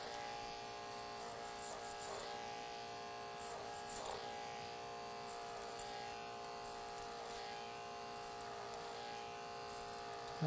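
An electric hair clipper runs steadily during a men's undercut, giving a constant faint buzzing hum with a strong tonal whine, with small shifts in pitch as it works along the side of the head.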